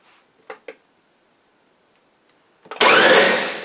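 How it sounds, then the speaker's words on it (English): A Ninja blender roars to life after a couple of short clicks, loud and steady as it chops cooked muscadine grapes into small pieces, close and alone. "So now I'm going to put these in my Ninja blender and chop them up into fairly small pieces"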